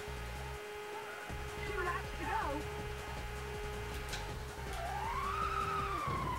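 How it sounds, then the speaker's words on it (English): Tires squeal as a car drifts in the Rage Racer PlayStation racing game, the skid rising and falling over a steady engine drone while someone talks over it. "Oh, unnecessary drift there, trying to showboat in a shit car."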